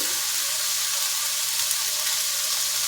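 Chilies, including green chili, Guntur and Byadgi chilies, sizzle steadily in a hot pan of oil while cooking palak paneer masala, a continuous close frying hiss with no talking.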